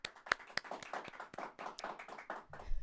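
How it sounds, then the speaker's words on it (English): Light, sparse clapping from a small audience at a Denver auditor candidate forum welcoming the candidates, individual claps distinct and uneven rather than a full roar, fairly quiet throughout. "Let's go ahead and give them a round of applause for being here today."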